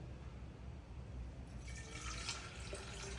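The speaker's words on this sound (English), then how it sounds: "I'm going to pour some hot water into this jar." Hot water poured into a glass jar, a faint, steady splashing trickle that starts partway through, heard quietly over a low background hiss without any talking.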